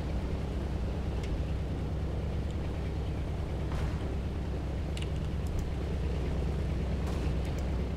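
Anti-aircraft guns firing in War Thunder, a dense rumbling roar of distant continuous gunfire with scattered sharper cracks, steady and heavy throughout.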